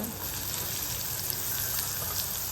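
Potatoes and onions frying in a pan while making upma, a steady broadband sizzle that stays loud and even throughout with no talk.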